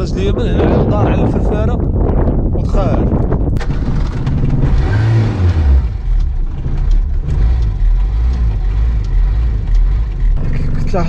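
An engine runs steadily, turning a dynamo by a belt at a metal-detecting site near the Moroccan–Spanish border, a loud continuous hum and rumble under wind noise, with someone talking over it.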